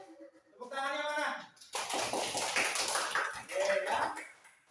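Schoolchildren in an Indonesian classroom break into hand clapping after a voice, the claps scattered and overlapping at moderate loudness, with some voices mixed in.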